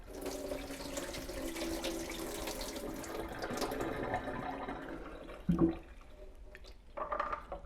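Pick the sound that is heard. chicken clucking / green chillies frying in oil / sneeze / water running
water running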